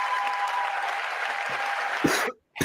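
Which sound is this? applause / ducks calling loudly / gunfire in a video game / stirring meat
applause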